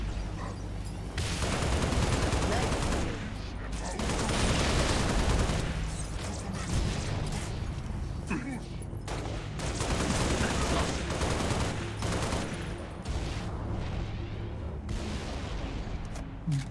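Sustained automatic gunfire from a turret-mounted machine gun in a video game, loud and dense with booming bursts running almost continuously for over fifteen seconds.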